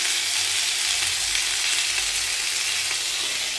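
Chickpea chorchori fries in a pan with a steady, close, dense sizzle that barely changes, while a low rumble sits underneath and nobody speaks.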